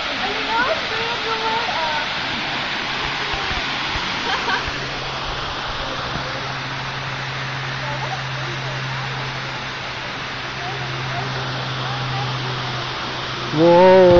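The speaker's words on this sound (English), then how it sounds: "It's the waterfall." A waterfall sends up a steady, loud rushing roar, seemingly heard from a safari ride in Cebu. The roar is dense and constant throughout, with a brief tonal sound at the very end.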